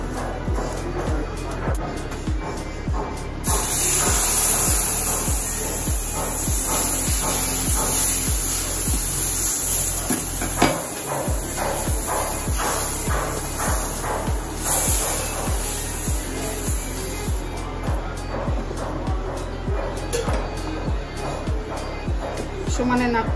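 Milk poured into red-fried semolina in a hot pan for mango barfi, stirred without pause: a loud sizzling hiss that swells after the first few seconds, over a steady rhythm of scraping stirring strokes.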